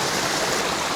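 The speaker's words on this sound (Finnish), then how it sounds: "pysähyin tässä pienen puron varrelle, ottaa vähän vettä" A small stream in Lemmenjoki National Park in Finnish Lapland gives a steady, close, broadband rushing and babbling flow with no breaks or voices.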